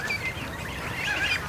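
Small ducklings from a hatching batch give thin, high peeping calls, a few quick chirps close by at moderate volume, with no voices.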